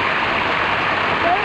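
Steady rushing roar of a waterfall, a dense, continuous wash of falling water heard close and loud throughout.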